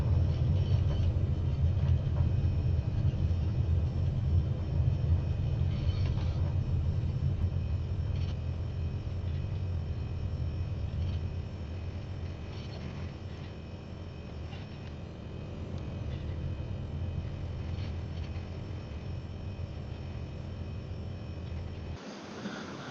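Steady low aircraft engine rumble and hum while a plane taxis at George Airport in South Africa, continuous and fairly loud, easing slightly midway before cutting off at the end.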